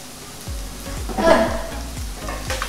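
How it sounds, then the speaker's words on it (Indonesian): Sliced onions sizzling in a pan with a teaspoon of sugar, caramelizing for a donut burger, a close, steady frying hiss broken by regular stirring scrapes about every half second, with almost no talk. "Karena mau caramelize onion, jadi kita pakai gula."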